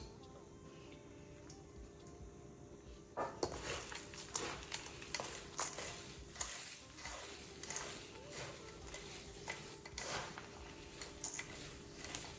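Granola being stirred with syrup in a bowl, a steady run of sticky scraping and clinking stirs that starts after about three seconds of near silence and continues close and moderately loud, with no talking.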